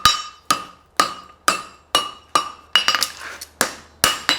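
Hammer blows on a forged steel horseshoe bending a branch, a steady series of about ten sharp ringing metallic strikes roughly every half second, close and loud with no talk.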